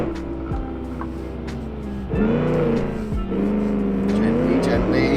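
A 1946 Gasmea race car in the Automation game, engine revving hard under full throttle and climbing in pitch through gear changes, loud and close, with someone speaking over it.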